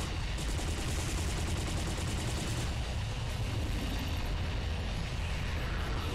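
Dense, loud gunfire from the video game P.N.03 pounds on without a break, with a rapid run of shots at the start that gives way to a continuous roar of blasts.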